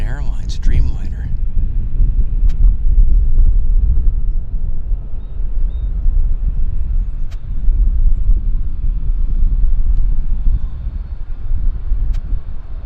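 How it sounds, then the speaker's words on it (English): A Korean Air Boeing 787 Dreamliner at Vancouver Airport produces a low, distant jet rumble under steady wind noise, while someone talks over it. "beautiful, beautiful heavy metal, heavy composite aircraft. There it is. Korean Airlines Dreamliner."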